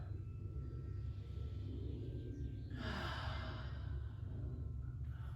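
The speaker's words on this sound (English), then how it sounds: "deep breath" One deep breath during a gentle yoga flow, a soft airy sigh-like exhale in the middle over a constant low background rumble, faint and close, with no talking.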